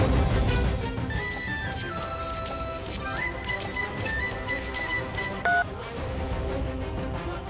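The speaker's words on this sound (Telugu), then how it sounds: "ఫోన్ చేస్తాను" A phone keypad sounds a run of distinct dialing tones, several sustained beeps stepping between pitches, quiet and close with a soft background hum and no talking.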